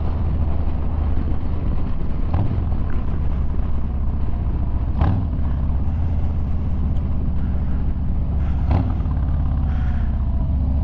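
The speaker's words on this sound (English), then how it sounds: "really hope that the audio will pick up the sound of this exhaust" Harley-Davidson Low Rider S motorcycle exhaust heard on the road as a steady, loud engine drone with continuous low rumble and wind buffeting, plus a few brief sharper bursts throughout.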